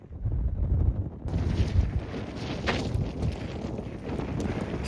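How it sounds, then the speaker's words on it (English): Strong wind on a mountain ridge in the Scottish Highlands buffets the microphone in a constant roaring rush with low rumbling gusts and no voices. "Very windy up here"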